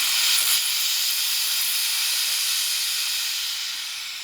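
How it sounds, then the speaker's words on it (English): Breville Bambino espresso machine steam wand being purged, a loud continuous close-up hiss of steam that stays steady for several seconds and eases slightly at the end, with no talking. "Okay, so first thing we're gonna do is purge the steam wand."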